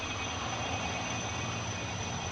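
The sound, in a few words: Korea Forest Service firefighting helicopter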